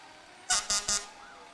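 Three loud, evenly spaced horn blasts from Rescue Vehicle 27, a very large rescue truck, at the 2009 West Norriton Day Parade, standing out clearly over quiet street background.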